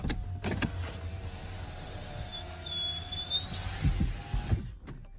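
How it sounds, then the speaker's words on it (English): Electric car windows of a Lexus GX470 whir downward together with a steady motor hum, ending in soft clunks as they stop, close and clear. "With 1 touch, all of them come down."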